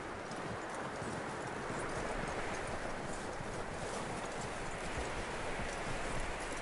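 Horse hooves clip-clop steadily in Red Dead Redemption 2, a continuous close rhythm over a dense wash of outdoor ambience with no talking.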